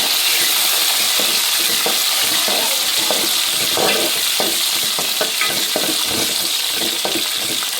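Chillies and curry leaves fry in a pan while being stirred vigorously, giving a loud, continuous sizzle broken by repeated scraping and rattling strokes up close.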